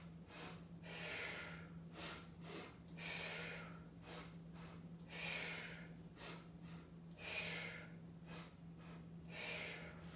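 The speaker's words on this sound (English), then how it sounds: "Continue percussive breath as you twist to open with that inhale with a single exhale to return you to center." Rhythmic percussive breathing during a mat Pilates twist: repeated sharp, close inhales and exhales in a steady pattern, with no talking.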